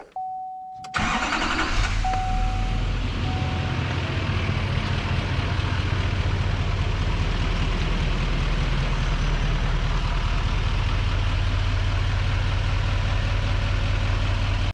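An L5P diesel pickup truck fires up after a brief starter whine, then settles into a loud, steady, low rumbling idle that continues unbroken for the rest of the clip.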